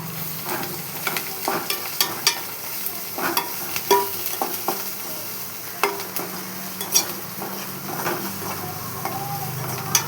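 Ginger paste sizzling in a pan, a steady close fry with irregular sharp scrapes and clicks of stirring scattered over it, no voices.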